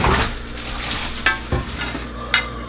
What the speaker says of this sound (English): venison chunks into this broth. It's a little bit splashy.